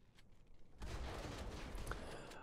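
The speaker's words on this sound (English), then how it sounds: "Early exchange of gunfire seems even so far" Gunfire in the mobile shooter Modern Combat 5 during an iOS tournament final: a sudden burst of rapid shots erupts after a quiet moment and continues in a dense, steady volley.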